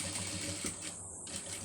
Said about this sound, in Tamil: வரிசையாக வச்சு தையல் போட்டு வந்துடுங்க